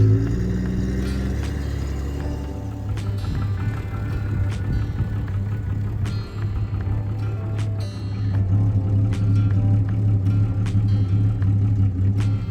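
Old Holden HZ ute engine idling steadily and loud up close, a continuous low rumble carrying a faint rhythmic lifter tick through the whole stretch.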